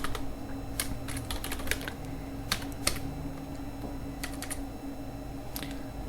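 Code being typed on a computer keyboard: irregular runs of crisp key clicks, close and fairly quiet, over a steady low room hum, with no voices.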